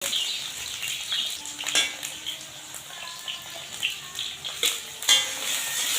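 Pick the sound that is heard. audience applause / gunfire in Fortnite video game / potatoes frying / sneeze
potatoes frying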